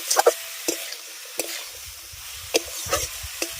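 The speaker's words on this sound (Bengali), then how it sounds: "মোচা আলু বেগুনটাকে খুব ভালো করে আগে ভেজে নিতে হবে" Banana flower, potato and eggplant frying in a pan: soft sizzling throughout, broken by a series of sharp stirring scrapes and clinks spaced irregularly, close and alone.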